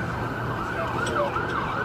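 An ambulance siren wails in the distance, faint rising and falling tones drifting over a steady background of street noise.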